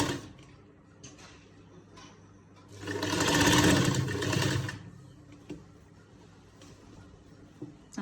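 A sewing machine runs a short burst of stitching along a seam on a lined shirt, a steady whirring run of about two seconds with faint handling noises before and after.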